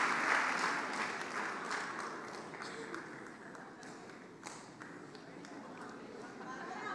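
Church congregation applauding during a sermon, a broad continuous patter of clapping filling the room with a few sharper claps standing out, while people talk underneath.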